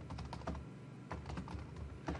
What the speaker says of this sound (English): Those are the names that I'm typing right now